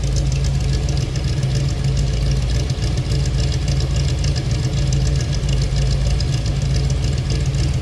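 A 1956 Chevrolet Corvette convertible engine idles steadily and loudly up close, a deep rumbling drone with a slightly uneven, knocking pulse throughout.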